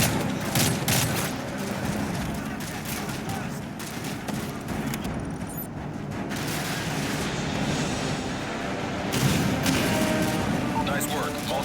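Dense, continuous gunfire from the Call of Duty: Modern Warfare 3 finale mission Juggernaut, with rapid overlapping bursts and booms filling the whole stretch at close, loud range.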